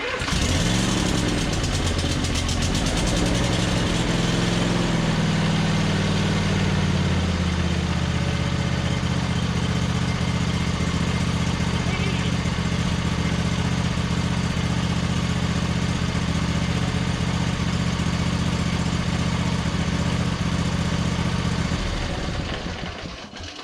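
Cub Cadet RZT 50-inch riding mower engine running loud and close, starting rough and unsteady before settling into a steady idle drone that holds for about twenty seconds, then cuts off.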